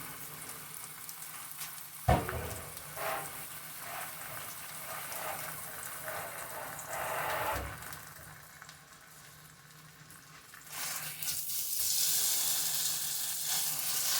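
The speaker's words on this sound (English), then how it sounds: "You just go around it and just kind of sear that over." A pot roast sears in an Instant Pot with a soft, continuous sizzle, joined by occasional clunks and scraping as the meat is moved and turned around the hot pot, with no voices present.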